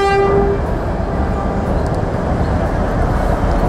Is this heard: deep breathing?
no